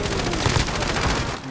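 Gunfire in Call of Duty: Modern Warfare Warzone is loud and continuous, a dense automatic rattle of close shots that barely lets up, easing briefly near the end.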